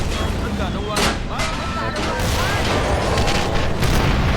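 An RPG rocket explodes in the war video game The Toy War with a sharp booming burst, set amid a dense, continuous din of gunfire, mechanical noise and overlapping voices.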